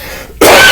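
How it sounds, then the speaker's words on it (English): A man clears his throat once with a sharp, loud burst after a quiet moment, close to the listener. "clear my throat here"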